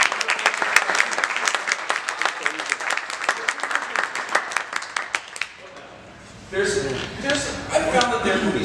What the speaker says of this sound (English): Jamie, give him a round of applause.